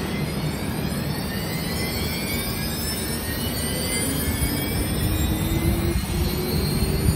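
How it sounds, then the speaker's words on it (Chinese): A machine tool spindle started and running, giving a steady, continuous mechanical whine over a broad, even hum that holds at constant loudness throughout, close by and with no voices. "比如我们手动把它启动这个左轴，然后一按，然后那个左轴就转了"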